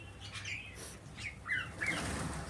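Birds such as mynas take off from feeding in a flurry of wing flaps, with a few brief chirps and squawks, heard fairly faint and close over a quiet outdoor background.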